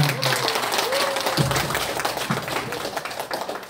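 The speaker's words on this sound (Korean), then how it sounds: "교수님께 다시 한번 큰 박수 부탁드리겠습니다" Applause from a lecture audience for a professor, a burst of clapping that fades gradually, with a voice speaking over it.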